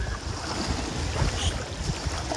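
Small sea waves wash onto a beach at Zelenogradsk on the Baltic coast under overcast skies, a steady soft roar of surf with light wind noise and no voices.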